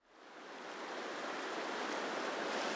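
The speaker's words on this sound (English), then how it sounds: "I get to listen to the sound of the river all night" A river flows steadily near a campsite in the Pacific Northwest, a broad continuous rushing wash that swells in from silence and holds even, with no voices.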